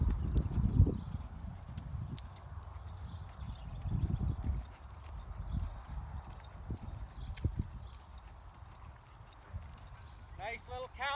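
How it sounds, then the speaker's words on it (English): Horse hooves thud in a soft three-beat rhythm during a counter canter in an arena, faint and steady under occasional spoken coaching from the rider. "Nice little counter canter."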